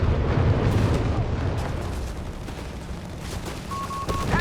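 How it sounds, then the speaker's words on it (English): Artillery shells pound a point in Company of Heroes 3, a World War II strategy game, as a loud, continuous rumble of explosions and gunfire, with a brief electronic beep near the end. "got artillery there being directed into the point"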